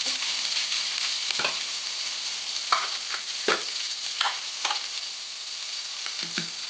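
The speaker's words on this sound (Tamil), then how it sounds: "நம்ம எடுத்து வச்சுருக்கிற கருவேப்பிலையை போட்டு தாளிச்சுட்டு அப்புறம் கழுவி வச்சுருக்கிற வெங்காயத்தையும் எடுத்துக்கணும்" Curry leaves and onions fry in hot oil for a chickpea curry, giving a steady close sizzle with a few brief stirring scrapes and spatters scattered through it. No one speaks.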